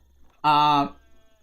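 A single loud sheep bleat from Age of Empires IV, clear and close, about half a second long, standing alone against a near-silent background.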